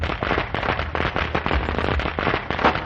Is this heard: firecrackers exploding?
yes